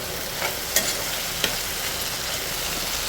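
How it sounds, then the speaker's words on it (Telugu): Okra pieces frying in an uncovered pan turned up to high heat, a dense, even sizzle from start to finish with a couple of brief scraping clicks as the pieces are stirred. "బెండకాయ ముక్కలు వేగిపోయి ఇప్పుడు లిడ్ తీసేసుకుని మనము హైలో పెట్టుకుందామండి."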